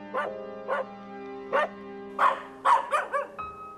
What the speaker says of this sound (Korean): 가족을 잃은 들개들은 오늘따라 예민하게 짖어댑니다.